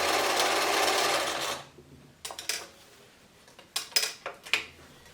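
A German-made Singer 720 sewing machine stitches in a fast, dense burst for about a second and a half, then falls quiet apart from a few sharp clicks and knocks of handling the machine and fabric.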